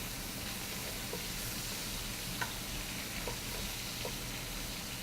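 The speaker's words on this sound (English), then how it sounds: "So we're just getting a nice sear on these" Food sears in a hot pan with a steady, close sizzle and faint crackle, a few small clicks of stirring or utensils breaking through the continuous hiss.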